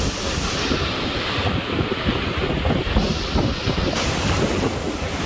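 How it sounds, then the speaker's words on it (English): Ocean waves surge and churn through a rocky blowhole on the Curacao coast, a continuous loud roaring wash mixed with heavy wind buffeting the microphone. "I guess they call that a blowhole."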